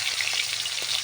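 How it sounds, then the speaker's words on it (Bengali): Fish frying in hot oil after being coated with chili and turmeric, giving a loud, close, steady hissing sizzle throughout with no talk. "তেল দিয়ে এবারে মাছ তুলে দেওয়া হবে। একটা করে মাছ তুলে দেওয়া হচ্ছে।"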